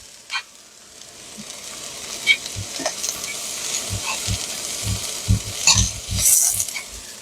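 Food frying and caramelizing in a pan on the stove, with a steady close sizzle broken by sharp clinks and scrapes of stirring throughout.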